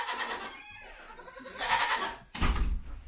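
Goats on a farm bleat several times nearby, wavering nasal cries spaced across a few seconds, with a low thump at the end.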